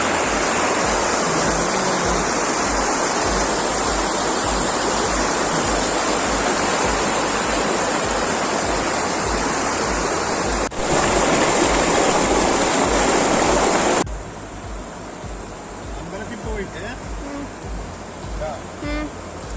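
A river in Wayanad, Kerala rushing loudly and continuously, a broad close roar of flowing water that drops to a softer, lighter babble after a cut near the end, with insects faintly audible.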